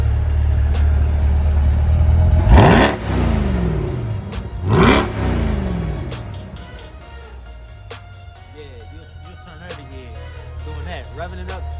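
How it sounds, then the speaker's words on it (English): A 2020 Corvette engine revs hard twice in quick succession, each rising exhaust roar sweeping up and falling back, then settles into a lower rumble with faint voices. "The sound of the exhaust sounds beautiful."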